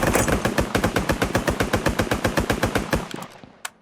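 Rapid automatic gunfire from a video game, a steady burst of evenly spaced shots lasting about three seconds, loud and close, ending with a single later shot and no talk over it.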